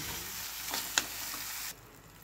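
Spice paste fries in a pan with a close, bright sizzle and a couple of sharp spatters or utensil clicks, then the sizzle drops abruptly to a quiet hiss near the end.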